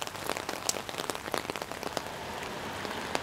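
Heavy rain pours onto surfaces and an umbrella on a sheltered North End street, dense close pattering with sharp individual drop hits over a steady hiss.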